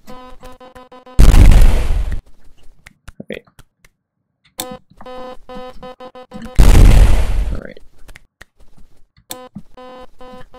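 Two heavy, booming explosions go off several seconds apart in the video game Birdgut, each a loud broadband blast that fades out, with tonal game music and short beeps continuing between them.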